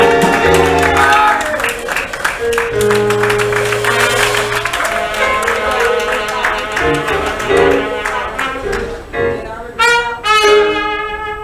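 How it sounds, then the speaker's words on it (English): A church congregation claps along in rhythm to loud worship music. The regular beats of the clapping sit under the band and singing throughout. "Come on, clap to it."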